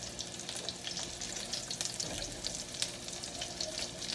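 Breaded chicken Milanese fries in a pan with a continuous, even crackling sizzle that holds steady at close range throughout, with no talking.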